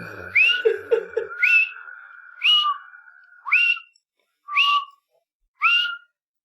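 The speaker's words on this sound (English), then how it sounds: "I also whistle a jaunty tune that I learned from Willie." A short, jaunty tune whistled by one person: bright melodic notes in separate phrases, close and clear, with a few low murmurs early on, then the whistled bursts stand alone with pauses between them.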